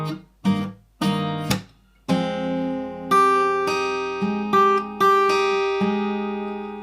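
An electric guitar plays a riff slowly, picked notes ringing out one after another, a few short plucks first, then longer sustained tones, close and clear with no voices.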